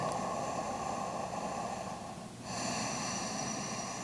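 Deep, steady breathing during a vinyasa yoga flow, a close, airy exhale-like hiss running through the whole stretch with a brief dip near the middle, no talking.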